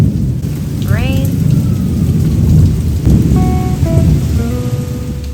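Heavy summer rain pours down steadily in the southern US with deep rumbles of thunder rolling underneath, broadband and continuous throughout, while a few faint chirps and tones sound briefly in the background.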